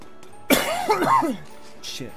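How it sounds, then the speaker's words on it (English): A single sharp cough lands close into a microphone, loud and abrupt, followed by a short throat-clearing rasp and a quieter breathy trailing sound. "I didn't mean to cough into the mic"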